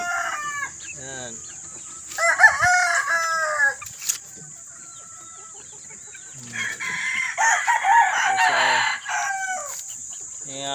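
Sweater-breed hens and roosters in a backyard farm cluck repeatedly and crow loudly in two long bursts, close by, with a person's voice briefly heard.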